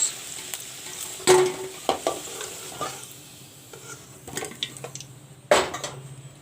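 Potatoes frying in oil in a pan, with a soft continuous sizzle broken by several sharp utensil scrapes and clanks as the pieces are stirred and lifted out, close by.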